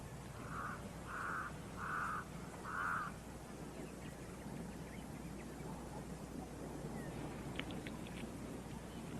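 A crow cawing near a lion and a tortoise in the wild, four evenly spaced harsh calls at the start, then only steady outdoor ambience with wind.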